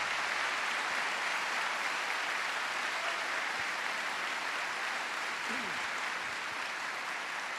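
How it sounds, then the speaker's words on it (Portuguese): A church congregation applauds steadily and loudly for several seconds during a Catholic priest's sermon, a dense wash of clapping with no pauses. "Pode aplaudir a palavra."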